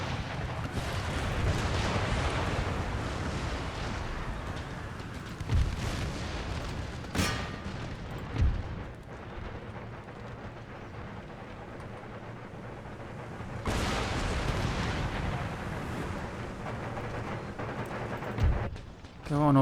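Organ guns and artillery boom through a large battle in Empire: Total War, with dense rolling rumble, sharp volleys and scattered blasts running throughout, and a voice talking over the din.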